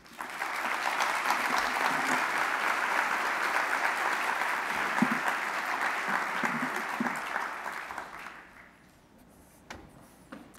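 A conference audience at the ISSRDC 2018 event applauds steadily to welcome NASA astronaut Mark Vande Hei, a sustained dense clapping that holds for about eight seconds, then fades out into near quiet.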